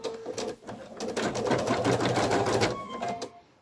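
A Viking Designer embroidery machine stitching pink polka dot minky fabric in a 180x130 magnetic hoop, its needle hammering in a rapid, steady rhythm close by before slowing and stopping.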